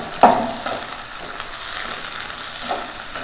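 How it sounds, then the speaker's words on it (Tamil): Chopped onions sautéing in a pan for tomato thokku, a steady close sizzle with a brief louder hiss at the start and soft stirring scrapes, no voices. "வெங்காயத்தை இப்போ நல்லா வதக்கி விட்டுடலாம்."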